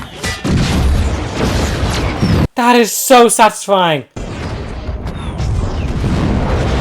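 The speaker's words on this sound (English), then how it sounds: "Only complaint is that the explosions are regular." Explosions from an episode of The Mandalorian Season 2 boom heavily in two bursts with crashing debris, split by a short moment of a person speaking excitedly in between.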